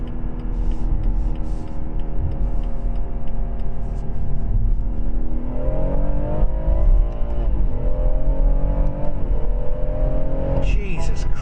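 A BMW M140i engine revs hard through a paddle-shift downshift from third to second near 5,000 RPM, a loud, close, continuous drone whose pitch swings and climbs with each blip, with a louder flare near the end.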